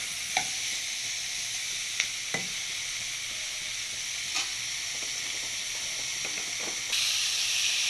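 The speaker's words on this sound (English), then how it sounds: "Saute there for a minute. Make sure your flame is always in a medium heat." Vegetables sauté in a pan over a medium flame, giving a steady close sizzle and hiss with a few sharp clinks and scrapes of stirring scattered through, and a brief louder hiss at the end.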